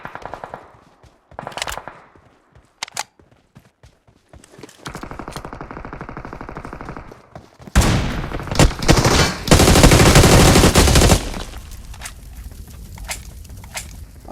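Rapid automatic rifle fire from a BGMI battle-royale match, AMR sniper shots followed by AUG assault rifle bursts, starting as scattered single shots, then sustained loud volleys building to a dense, heavy stretch before easing off.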